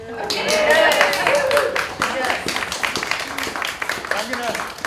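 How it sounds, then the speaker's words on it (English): Audience clapping for the mayor at a Holyoke rally, a burst of claps with voices and cheers mixed in, fading to scattered claps under ongoing talk. "So we can give him like a round of applause or something."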